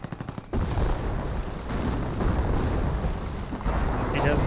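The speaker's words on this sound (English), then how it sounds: "Warfman Barrage now trying to rain on this sector." A Werfer rocket barrage in Company of Heroes 1 lands as a sustained, loud rumble of overlapping blasts and crackle after a few sharp opening bangs, continuing without a break and with no voices over it.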